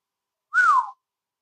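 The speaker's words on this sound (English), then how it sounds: "letting out a low whistle." A lone low whistle glides downward in pitch for about half a second, clear and close in silence.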